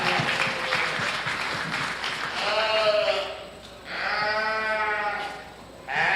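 Several lambs bleat repeatedly at a county fair sheep show in the ring for a wether dam class, their voices fairly close and clear with crowd noise and some talk around them.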